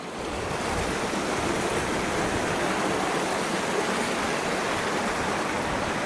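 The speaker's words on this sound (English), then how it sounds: "Got some cool waterfalls." Rushing water from mountain waterfalls and a flowing stream in the Rockies backcountry fills the air as a dense, constant roar, loud and unbroken throughout with no voices.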